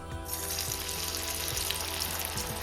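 Onion bonda dough fries in a pan of hot oil with a steady, moderately loud bubbling sizzle and a few soft plops, and no one speaks.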